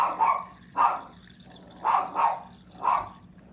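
A dog barks in short bursts, about six barks in uneven pairs and singles, fairly close and clear with quiet gaps between.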